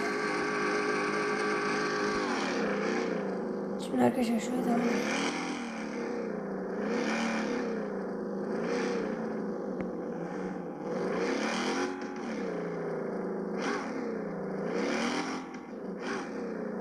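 A Ford Mustang engine in the racing game Drive Zone revs and drops repeatedly in a rising, falling whine with gear-like surges, while someone speaks briefly over it.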